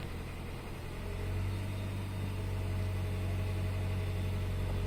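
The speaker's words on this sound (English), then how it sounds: "you can see how the engine's kind of racing" The engine of a 2010 Hyundai Sonata with a MAP sensor fault runs at idle, a steady close drone with a strong low hum that surges slightly higher after the first second and holds.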